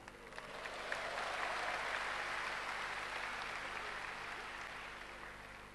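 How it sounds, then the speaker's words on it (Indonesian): A steady burst of applause from a church congregation during an Easter sermon, swelling quickly and holding at full strength before tapering slightly toward the end. "Kok langsung tepuk tangan?"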